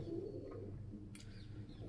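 A white-eyed pigeon coos in low, soft murmurs, faint against a steady background hum, with a brief brighter sound near the end.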